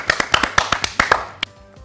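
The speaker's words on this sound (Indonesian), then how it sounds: "kita tepuk tangan ya" A few people clapping for a third-grade lesson, a short run of distinct, fairly loud claps in an uneven rhythm that stops after about a second and a half.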